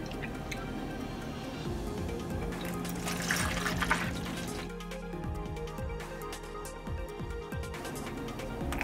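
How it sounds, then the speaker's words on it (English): Homemade Jamaican sorrel drink pours from a big jug into bottles as a continuous close splashing stream, and the tone shifts partway through as the bottle fills. "I'm gonna throw this in the bottles from this big jug here"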